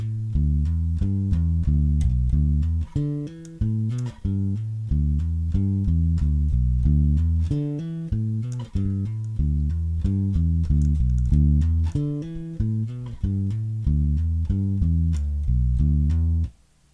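A bass-register instrument line with hammer-ons played unaccompanied and without a metronome, a steady stream of tightly repeated low notes with sustained, even loudness throughout.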